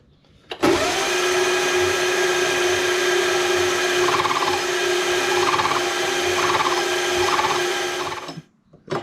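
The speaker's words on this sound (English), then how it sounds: "I've got one shroud here in the lathe and I'm just turning the hole out a bit bigger to make it fit" A metal lathe runs in the shop, turning out the hole of a BSA A10 plunger motorcycle shroud, giving a loud, steady motor whine with a faint periodic cutting chatter for about eight seconds before it winds down.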